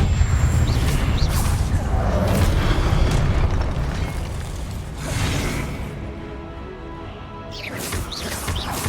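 Confringo fire spell blasts in Hogwarts Legacy, a dense run of loud booming explosions rolling continuously with crackling debris, a brief lull near the end before another burst.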